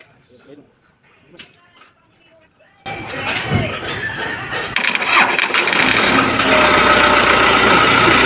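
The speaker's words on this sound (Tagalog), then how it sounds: "subukan natin ditong i-start para malaman natin dito kung okay pa ba yung andar" After some quiet handling noises, a truck engine cranks and catches, then settles into a loud, steady idle close by.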